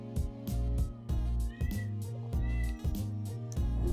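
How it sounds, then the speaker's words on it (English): A cat meows close by, its cries mixed with a rhythmic, pulsing tonal background. "That's my cat next to me right now."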